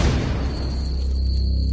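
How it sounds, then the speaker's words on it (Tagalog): A loud explosion effect in a Filipino horror audio drama, set at a mansion some distance away: one heavy boom with a deep rumble that lingers and slowly fades over a couple of seconds, with no voices. "Medyo malayo na kami sa mansyon nang mayroon kaming marinig na malakas na pagsabog."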